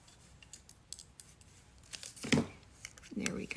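Scissors snipping the stem off a stamp art panel, a few faint close cuts and paper crinkles, with a voice talking briefly near the end.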